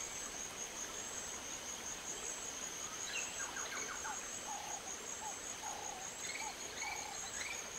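Frogs and insects sound in the Secret Files 2 game world: soft, scattered croaks and chirps over a constant faint buzzing drone, with no talking.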